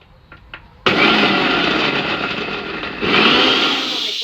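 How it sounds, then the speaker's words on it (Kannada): A mixer grinder whirs loudly and steadily as it blends lemon and garlic sauce for homemade shawarma, following a few faint clicks, with the motor surging a little louder near the end. "ಇದಿಷ್ಟೆಲ್ಲ ಹಾಕ್ಬಿಟ್ಟು ಗ್ರೈಂಡ್ ಮಾಡ್ತಾರೆ"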